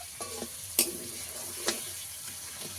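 A bay leaf sizzles in hot oil in a pan after lightly fried hilsa fish has been lifted out, for a hilsa fish pulao, giving a steady soft frying hiss with a few clinks of a utensil.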